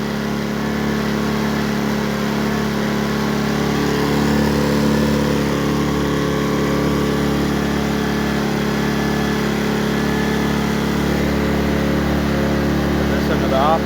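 A Pulsar GX400BN propane generator runs on gas with a steady, loud, even engine hum and buzz that holds unchanged throughout, with someone talking over it.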